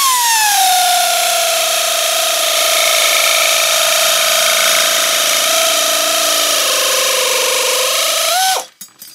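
Lidl pneumatic nibbler runs off an air compressor while cutting, a loud steady high whine with a slight pitch sag, continuous for about eight seconds before stopping abruptly with a brief clatter.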